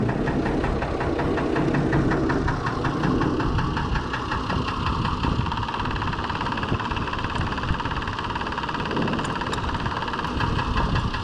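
A Fordson Major tractor fitted with a Perkins straight-six diesel idles steadily nearby, a loud continuous knocking throb with no voices over it.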